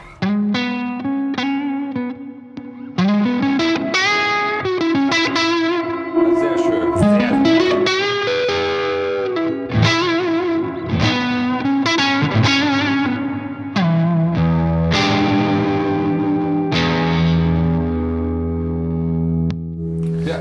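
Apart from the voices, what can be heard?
electric guitar with boost, classic distortion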